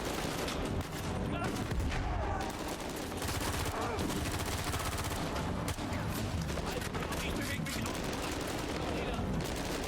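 Sustained gunfire in Uncharted 4 during a firefight with grenades, a loud, unbroken barrage of shots and blasts filling the whole stretch, with a voice talking over it.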